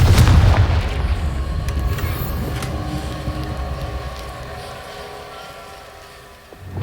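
A Confringo blasting spell in a video game lands as a deep booming explosion up front, then its low rumble rolls on steadily and slowly fades over several seconds.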